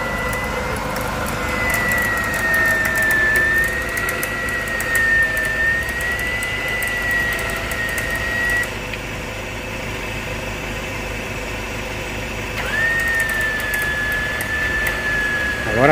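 A winch mounted on a pickup truck drags a motorcycle uphill on a rough road trip, a steady whining motor tone holding for several seconds, dropping out, then resuming over a constant engine rumble.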